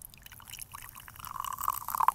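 Peepsi soda is poured from a can into a glass, making a faint liquid trickle that rises into a brighter gurgling fill toward the end, quiet and close with no talking.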